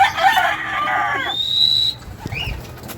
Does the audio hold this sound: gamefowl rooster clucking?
yes